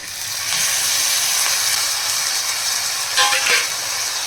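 Washed fenugreek leaves dropped into hot oil tempering for a Maharashtrian methi dish, giving a steady close sizzle and hiss with a brief louder crackle near the end, no talking.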